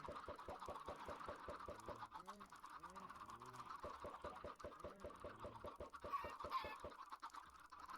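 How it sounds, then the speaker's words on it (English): Baby chickens in the Minecraft video game cluck and cheep in rapid repeated bursts over a steady ambient hum, with a few higher chirps near the end. "All the little extra bonus baby chickens help us repopulate after a big cold like that."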